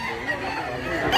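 Chickens or roosters at a crowded fowl market with many sellers, clucking and brief calls that run under busy crowd chatter and talk, growing louder near the end.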